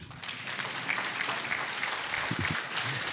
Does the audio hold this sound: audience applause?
yes